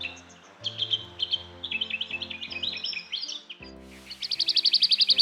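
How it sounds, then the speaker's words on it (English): A willie wagtail sings in the Australian bush: bright, chattering whistled phrases that repeat, ending in a fast rhythmic run of loud, sharp notes, heard alone and fairly close. "The most commonly recognised call of birds in the Australian bush is that of the woolly wagtail."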